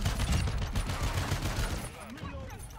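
Rapid shotgun fire from the MX Guardian in Modern Warfare 2, a dense burst of loud overlapping blasts that thins out toward the end, with game effects behind.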